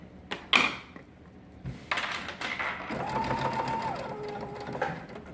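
A sewing machine runs in a steady whirring burst while stitching burp cloths, starting after a few brief clicks and handling noises, then continuing evenly at close range for several seconds before slowing.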